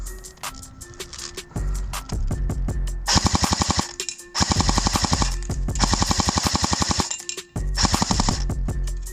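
An airsoft gun fires on full auto in several sustained bursts of rapid, sharp cracks, with short pauses between bursts and no talking.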